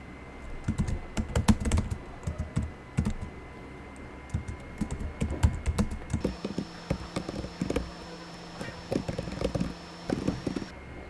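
Quick bursts of typing on a computer keyboard, close and fairly quiet, with irregular clusters of key clicks separated by short pauses and a faint steady hum underneath, no talking.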